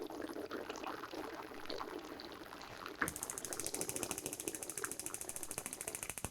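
A gas wok burner in an outdoor kitchen is lit: rapid mechanical igniter clicking runs for a few seconds, then a sudden catch gives way to a steady roaring hiss of flame with rhythmic pulsing, close and moderately loud.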